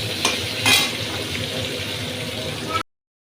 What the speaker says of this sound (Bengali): তো তার জন্য হলুদ আর লবণটা ভালো করে দিয়ে দিলাম এর মধ্যে, দিয়ে একটু এগুলো লাল লাল করে আমি ভেজে নেব।